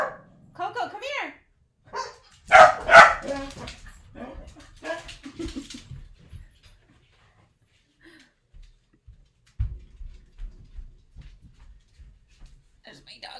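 Pet dogs bark and yip in a short excited burst at home, then whimper softly. A person talks between and over the barks, and the room goes quieter toward the end.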